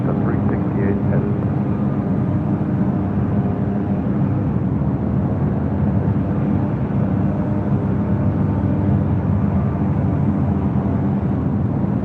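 Broadband jet roar of an airliner landing on runway 6 right at LAX, steady and loud throughout with a deep rumble and no pauses.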